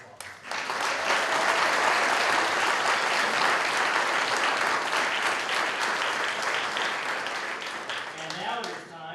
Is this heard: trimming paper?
no